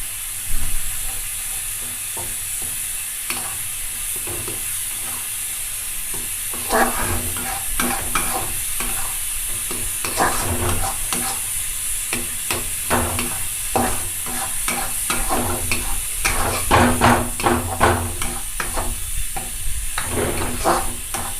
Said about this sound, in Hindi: इसे अच्छी तरह से मैं भून लेती हूँ, आटा दे देती हूँ